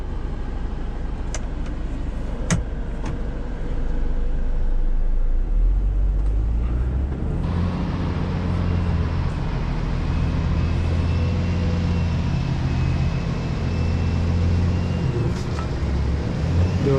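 Truck engine revving as the vehicle works its way out of snow, a deep steady rumble that grows fuller and louder after about seven seconds and holds, with a few sharp clicks early on and no talk.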